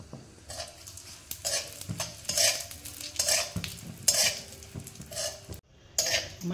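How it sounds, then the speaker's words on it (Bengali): Whole cumin, a bay leaf, a dried chilli and whole garam masala tempering in hot oil, bursts of sizzle alternating with stirring scrapes and a short pause near the end. "আর আমি তাতে ফোড়নে দিয়ে দেব 1 চামচ জিরে, একটা তেজপাতা, একটা শুকনো লঙ্কা, আর গোটা গরম মশলা"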